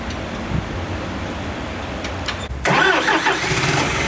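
An Isuzu FRR truck with a 4HK1 twin-turbo diesel engine cranks and fires up, settling into a loud, close, steady idle after a quiet background start.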